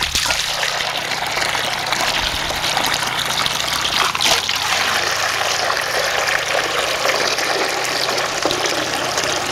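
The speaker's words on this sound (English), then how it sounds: "I'll give them a bunch of fresh water." Fresh water poured out for cats, a steady, loud gush and splash that runs continuously throughout without pause, up close.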